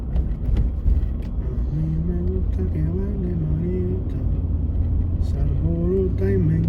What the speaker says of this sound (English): I'm gonna drive through town